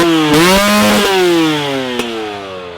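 A two-stroke motocross bike engine revs high and buzzy, pitch rising then easing off as it holds a loud steady whine close by.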